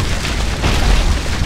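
Fireworks explode in the video game Suicide Guy, a loud continuous booming blast with deep rumble and crackling debris filling the whole moment, no voices.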